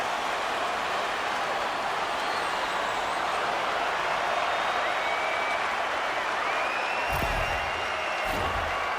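Broad roar of a hockey arena crowd cheering in the NHL 26 video game during a tied AHL Barracuda game, a dense, sustained wash of noise at a steady level with a couple of brief thumps near the end.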